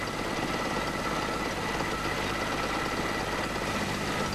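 A conventional carburetted car engine idles steadily at about 800 rpm during a tune-up, a continuous close, even rumble with no speech over it.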